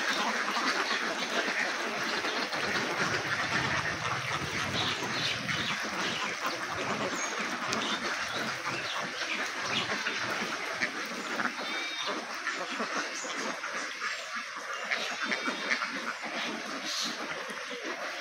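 About 1700 Jinding ducks crowd a farm shed and fill it with a constant, overlapping chorus of quacking that stays busy and fairly close throughout, with a voice briefly under it.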